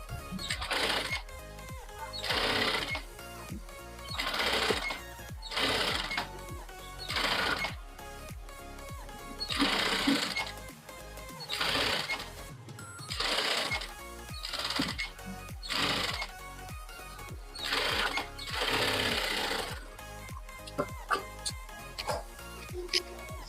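A sewing machine stitches a fabric strip around the armhole of a sleeveless princess-cut blouse, running in repeated short bursts with brief pauses between them, close and clear with no talking.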